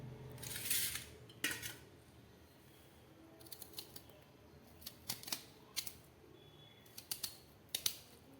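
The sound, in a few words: knife cutting spiny gourd (kantola) lengthwise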